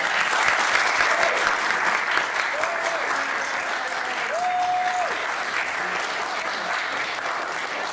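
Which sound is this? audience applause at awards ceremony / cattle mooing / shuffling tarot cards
audience applause at awards ceremony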